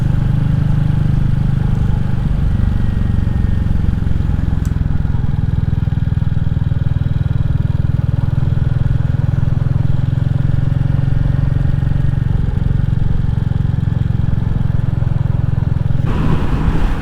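A Royal Enfield Classic 350 cruises along a motorway with a steady, loud single-cylinder engine drone and heavy wind rush filling the whole stretch, a brief shift in tone near the end.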